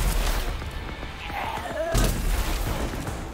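Heavy weapon fire in the shooter game RAGE 2, dense booming blasts and rumbling impacts that continue with barely a pause, loud and close, with a sharp burst near the middle.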